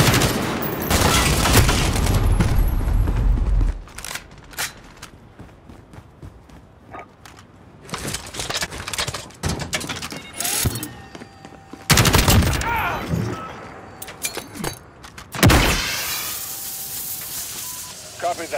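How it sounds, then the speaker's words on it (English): Bursts of gunfire and sentry gun fire ring out in the video game Call of Duty: Modern Warfare, loud volleys coming in clusters separated by quieter gaps with hissing and scattered battle noise. "Got a sentry gun on station."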